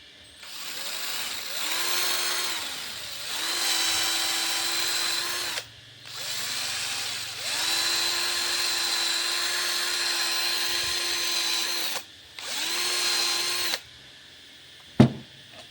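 A power drill bores into a wooden post in several long, close whining bursts, its pitch rising as it spins up, with brief pauses between runs.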